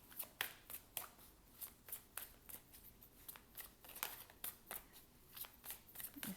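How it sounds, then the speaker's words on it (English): Tarot deck being shuffled and handled, a rapid run of crisp card flicks and riffles in an even, rhythmic pattern, quiet and close-up with no talking. "let's draw one last card out of this deck"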